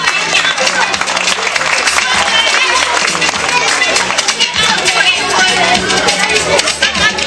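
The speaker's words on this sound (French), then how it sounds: "Sous vos applaudissements encore." Sustained audience applause at a school end-of-year celebration, dense steady clapping from a large crowd with murmured voices mixed in, loud and continuous throughout.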